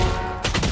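Valorant gunfire: a short burst of shots cracks in the second half, loud and close over steady game background noise.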